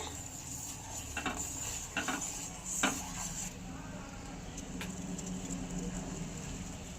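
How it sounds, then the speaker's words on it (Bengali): Tea with crushed cardamom and cloves boils in a pot, a steady close crackling simmer with a few light clinks and taps over it. "এলাচগুলো ভালো করে ফুটিয়ে নেব চায়ের সাথে"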